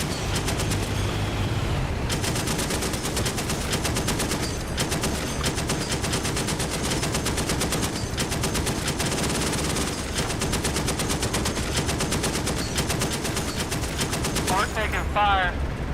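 Sustained machine-gun fire in a DCS World combined-arms mission rattles in long rapid bursts, loud and continuous for about sixteen seconds, with radio chatter and voices underneath.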